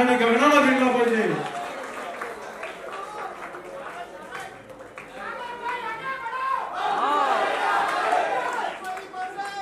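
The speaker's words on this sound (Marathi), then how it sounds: "आता टाळ्यांचा आवाज करण्यासाठी गगनाला भिडला पाहिजे" An audience at a political felicitation ceremony applauds, a dense, steady patter of clapping that runs throughout, with voices and crowd chatter heard over it, especially at the start.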